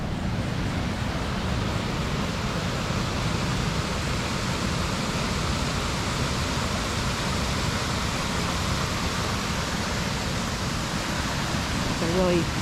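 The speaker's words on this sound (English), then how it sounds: "And then the water you hear is this outflow." Water tumbling steadily from the outflow of Moccasin Pond into a creek, a continuous broad rushing wash heard close by without pause throughout.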